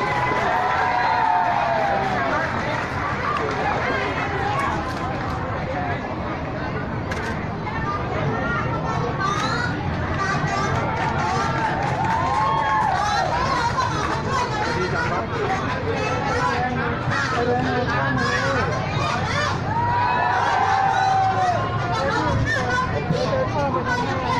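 Loud murmur of a big crowd of protesters at an anti-junta rally against delayed elections, a constant babble of many voices with scattered shouts and cheers, while a reporter talks over it.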